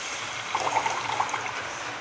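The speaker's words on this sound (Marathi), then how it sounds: "मग त्याच्यामध्ये मी ना आता पाणी ॲड करते." Water pours into a pan of roasted snack mixture, a soft trickling splash that swells briefly in the middle, close by and moderately quiet, with no voices.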